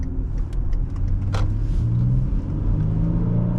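A 2013 Hyundai Genesis 3.8 sedan accelerates smoothly, its engine rising in a steady, loud drone heard from inside the cabin with no talk.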